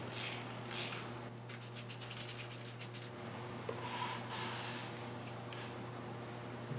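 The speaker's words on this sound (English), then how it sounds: "I'm going to tighten this just slightly with a ratchet" Ratchet tightening connecting rod bolts on a 1968 Triumph Spitfire MK3 engine, a quick run of about a dozen close clicks followed by faint handling noises over a steady low hum.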